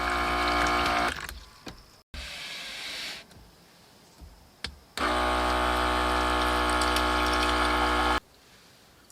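Water gushes from a faucet on an Alu-Cab canopy camper into a collapsible bowl, running in loud steady bursts that stop and restart, with the longest flow near the end.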